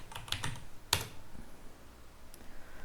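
A few quick keystrokes on a computer keyboard while entering a command in a Linux terminal on Ubuntu, a short burst of taps near the start, then one sharp press and a faint tap later, close and fairly quiet.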